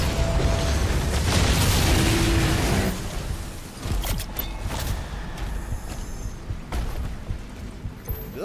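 Cannons fire in the video game DOOM: The Dark Ages, giving heavy booming blasts and bursts over a dense, rumbling game soundscape, loudest early on and then continuing as scattered thumps and pops.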